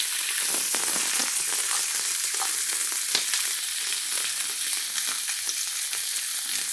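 Onion frying in olive oil in a pan over medium to high heat: a dense, continuous hiss with fine crackles and a few soft utensil taps, loud and close.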